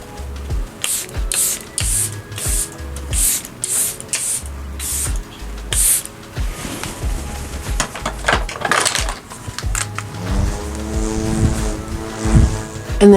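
Charlotte Tilbury setting spray mists out in a quick series of about eight close, hissing pumps at an even pace, followed by softer handling noises and light clatter.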